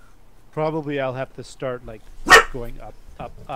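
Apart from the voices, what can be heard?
dog barking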